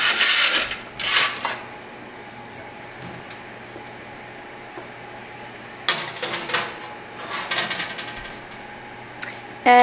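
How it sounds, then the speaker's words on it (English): Tray of sticks being placed into an oven, with clattering metal bursts at the start and again later, a rattle of the tray against racks over a steady low fan hum, ending in a sharp clunk. "we're just gonna place it in the oven."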